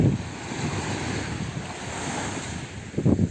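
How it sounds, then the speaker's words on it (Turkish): Sea waves wash in a continuous roar with wind buffeting the microphone, swelling louder near the end. "Dalgalar dalgalar."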